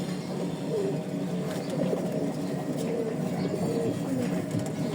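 Pigeons coo softly and repeatedly in a loft at feeding time, low steady murmuring continuing throughout with faint background noise.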